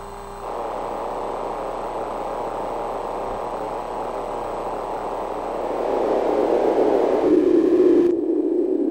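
Filtered noise hisses steadily, then the tone shifts and narrows toward a resonant peak before cutting off.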